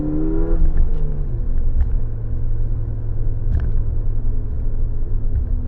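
A Ford Fiesta ST engine drones loudly up close, a low steady rumble with a rising pitch early on as it pulls hard through a third-to-second downshift.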